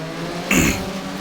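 A Porsche race car in Race 07 downshifts at Jyllandsringen, with a steady engine drone broken by a brief, loud, blipping rev burst in the middle.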